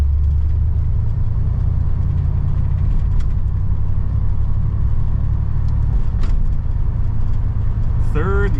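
A 1964 Oldsmobile 98 rolls along with a steady low engine rumble and road drone, gears shifting smoothly without sharp breaks; a brief squeak rises near the end, and a voice talks over the car now and then.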